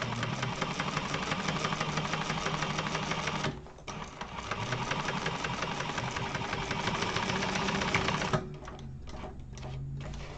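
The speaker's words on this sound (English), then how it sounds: "it's such a weird feeling sewing this in a tube, even this seam" A sewing machine stitches a seam on a garment sewn in a tube. It runs as a loud, steady mechanical whir with rapid stitching, pauses briefly, then resumes and slows near the end.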